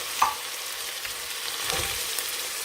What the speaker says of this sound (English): And stir this around.